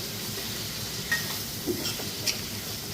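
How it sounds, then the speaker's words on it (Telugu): Mutton and masala being stirred and fried in a pan for a village-style mutton fry in Nepal: a steady, soft sizzle runs throughout, with a few faint scrapes and clinks of the utensil. "మొత్తం అంతా వేసి బాగా కింద మీద కలుపుతున్నారు"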